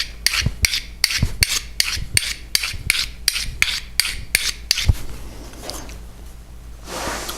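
A metal card scraper is rubbed back and forth square across a flat surface to precondition its edge, giving about a dozen quick, rhythmic rasping strokes up close before a brief pause and a softer final rub.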